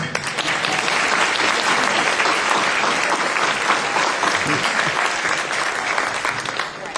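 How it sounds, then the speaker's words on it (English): Sustained applause from a crowd, steady and dense clapping throughout without pause, fairly close and loud. "which is probably give her a round of applause"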